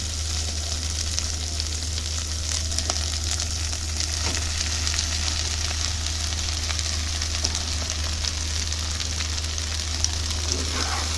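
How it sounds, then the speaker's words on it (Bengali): Steamed taro stolons (kochur loti) frying with spices in a pan over a flame give a continuous, even sizzle with occasional small crackles, close and steady, with no voices. "এই অর্ধেক হওয়া অবস্থাতেই আমি এর মধ্যে দিয়ে দেব ভাপিয়ে রাখা কচুরলতি।"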